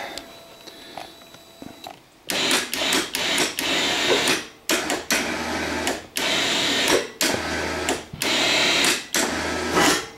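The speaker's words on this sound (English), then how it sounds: "Winch is working fine right now." Electric winch on a Kawasaki Brute Force 750 ATV, repaired with a new relay, whirring loudly in several bursts separated by short pauses, close by and without talk.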